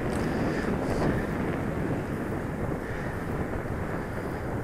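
Strong wind blows at a slope soaring site where an RC glider is flown, a steady, dense, moderately loud rushing roar that buffets the microphone for several seconds.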